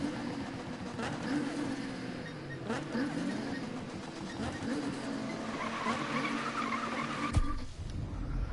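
Car tires squeal and skid through a drift race in a video game, a sustained engine drone with wavering tire screech running for several seconds, fairly loud and steady, ending in a sharp knock.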